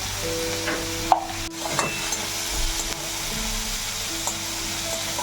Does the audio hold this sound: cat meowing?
no